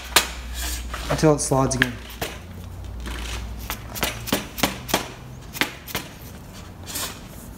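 Light taps on a go-kart rear axle being eased free, a series of sharp broadband knocks spaced irregularly after a short stretch of speech, fairly close and moderately loud.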